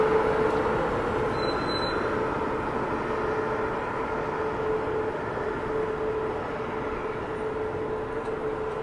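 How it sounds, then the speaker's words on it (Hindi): Pune Saupaul Express rolling past, a sustained loud rumble of wheels and coaches with a steady mechanical hum throughout. "ये रही अपनी पुणे सुपौल एक्सप्रेस"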